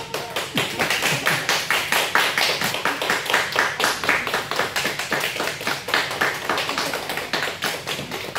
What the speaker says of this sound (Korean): 우리 박수를 한번 환영해 주시기 바랍니다.